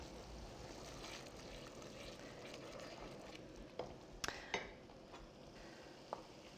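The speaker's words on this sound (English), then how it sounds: "We're just going to stir the herbs in, and that will really bring this sauce alive." Fresh herbs stirred into a lamb curry sauce in a pot, a soft bubbling simmer broken by a few sharp clinks and scrapes of a spoon against the pan.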